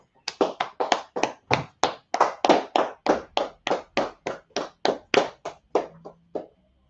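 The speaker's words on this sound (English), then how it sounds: "All right, clap it up." Slow, evenly spaced claps ring out at a church gathering, about twenty sharp, separate hits in a steady rhythm, fairly quiet against a silent background, with the last few tapering off.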